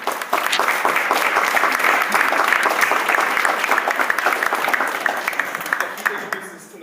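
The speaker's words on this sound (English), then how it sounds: "let's go ahead and give a warm round of applause to Dr." A warm round of applause from a lecture audience welcoming a speaker at an intercultural communication talk, loud and sustained crowd clapping that tapers slightly toward the end.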